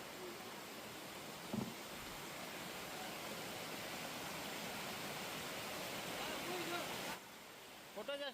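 Waterfall at Borra caves in Araku, a dense, steady rushing roar heard from nearby that fills the whole clip, with a few faint thumps.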